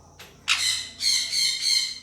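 African grey parrot and sun conure chicks give loud, harsh squawks close by: a short call, then a long continuous screech in several swelling pulses, with no talking.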